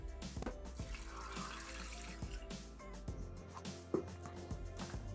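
Water runs steadily into a Thermomix bowl holding chopped carrot, cherry tomatoes, celery, onion and salt for vegetable broth, a continuous close stream with small knocks and splashes and no talking.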